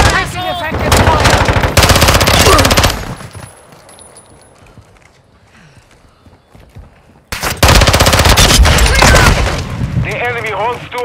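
Bursts of automatic gunfire and heavy shots in a Call of Duty: Modern Warfare II multiplayer Domination match, loud dense volleys with a quieter lull between them, and game voice callouts mixed in.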